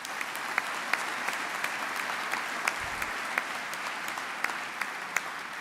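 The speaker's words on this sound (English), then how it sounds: "they deserve a round of applause too," An audience applauds at the 2025 Rolex Sydney Hobart Yacht Race prizegiving, a steady, fairly close wash of many hands clapping that lasts the whole stretch, with a few sharper individual claps standing out.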